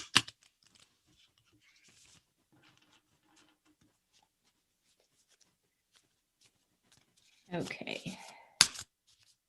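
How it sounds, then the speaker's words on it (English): Tarot cards being shuffled, heard as a brief papery riffling burst near the end after long quiet stretches with faint handling noises, and a single short word spoken early on. "So don't mind some shuffling noise here."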